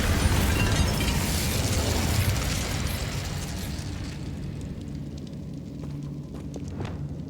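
The Incendio fire spell cast in Hogwarts Legacy, starting with a loud roaring whoosh of flame that slowly fades into a lower crackling rumble with a few sharp pops, alone and close.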